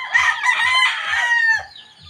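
A rooster crows in a long, strained call while hens cluck steadily around it at feeding time, with a low rhythmic thumping repeating underneath.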